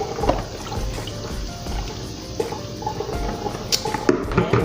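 Catfish pieces being rinsed under cool running water at a kitchen sink: a steady splashing wash with drips and small spatters, close and moderately loud, with no talking.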